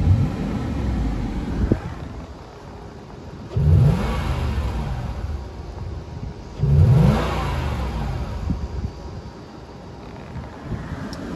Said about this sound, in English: We're gonna do a quick rev test.